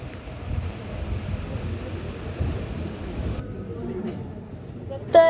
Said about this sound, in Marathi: तर आमची ट्रेन येते हळू हळू हळू हळू खाली